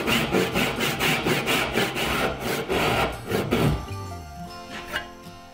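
A saw finishes a cut through black walnut along a traced pencil line, close and loud, with about nine steady rhythmic strokes that stop partway, leaving quieter scraping and workshop handling.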